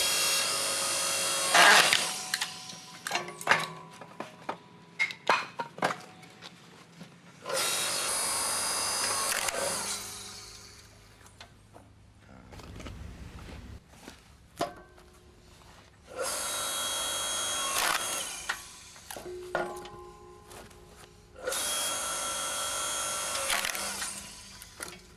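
A Hyundai HYLS4000H 4-tonne log splitter splitting firewood into narrow kindling sticks: its motor whirs loudly in four separate runs of several seconds each, separated by quieter gaps with faint clatter and knocks.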